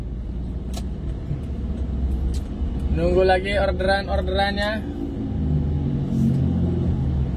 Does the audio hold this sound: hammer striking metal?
no